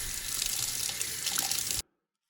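Water from a tap rinses a reed plate after wet sanding on 800-grit paper, a steady close splashing hiss that stops abruptly.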